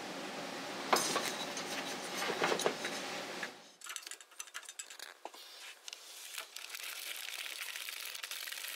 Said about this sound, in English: I will use my carriage to knit those four rows